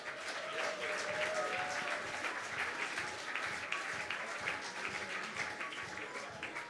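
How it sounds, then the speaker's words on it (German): A studio audience at a live beer-themed quiz show claps continuously, a thick, even wash of many hands holding at a moderate level throughout, with a faint tonal hum running underneath. "Und wir klatschen gleich weiter"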